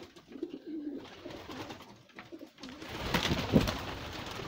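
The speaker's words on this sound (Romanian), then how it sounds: "Deja, cam ăștia sunt porumbei." Pigeons cooing nearby in a loft with nesting pairs, low soft coos repeating over a rustling background, rising to a busier flutter and scuffle toward the end.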